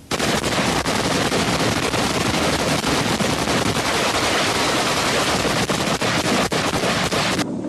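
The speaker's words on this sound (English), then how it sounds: "A group of 20 FAPLA kept on firing from their bunkers." Sustained, dense gunfire from about twenty FAPLA soldiers shooting out of bunkers and trenches in a battle, a loud continuous barrage of overlapping automatic bursts and single shots with no pauses, running for several seconds without speech.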